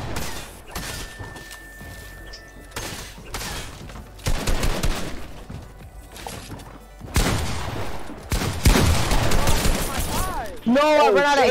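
Assault rifle fire in Fortnite Arena Duos, heard as loud bursts of rapid shots mixed with other game effects, crashes and impacts, with dense activity throughout and a louder stretch near the end.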